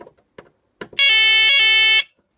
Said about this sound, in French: Par contre, je suis toujours en alarme.